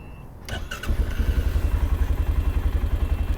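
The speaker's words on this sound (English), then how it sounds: "It's a very quiet engine." A 2020 Arctic Cat Alterra TRV 700 ATV engine cranks and catches after a few clicks, then settles into a steady, rhythmic low idle, fairly close and moderately loud.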